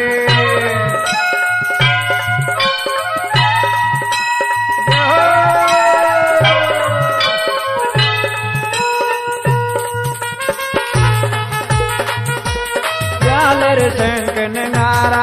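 Devotional Rajasthani aarti music for Devnarayan, with temple bells and jhalar cymbal ringing over a steady, loud nagara drum beat, layered with sustained melodic tones throughout.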